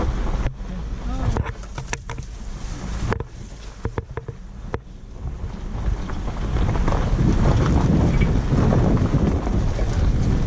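A vehicle rumbles and splashes through a creek crossing near Ophir City, Nye County, Nevada, with gusts of wind buffeting the microphone and the churning growing louder toward the end.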